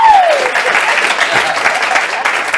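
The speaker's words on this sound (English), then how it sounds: "I think you got more applause than I did." Audience applause at a band's CD release party, a dense, steady wash of clapping heard up close for a few seconds, with a brief high whistle-like tone sliding down at the start.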